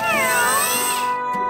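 A single drawn-out, high meow from a kitten, close and clear, wavering in pitch before trailing off.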